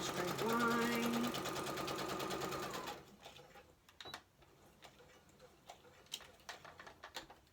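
A sewing machine stitching a lace pocket runs in a fast, steady close-up burst for about three seconds, then stops, leaving faint ticks and light handling noises.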